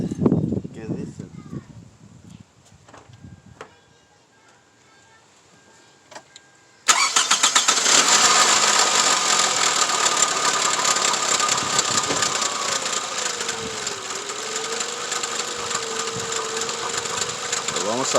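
A 2004 Toyota Camry with a misfire sits quiet while people talk, then its engine suddenly cranks and catches, settling into a loud, close, continuous idle that runs steadily to the end.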